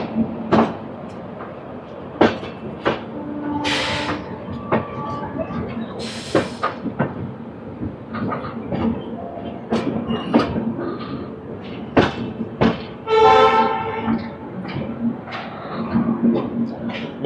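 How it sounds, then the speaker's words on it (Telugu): Purva Express train pulling into platform at New Delhi station: scattered metallic clanks, clicks and wheel knocks under a low rumble, with occasional squeals and a person talking at times amid station bustle. "మీకు కనిపిస్తున్న ట్రైన్ వచ్చేసరికి పూర్వ ఎక్స్ప్రెస్."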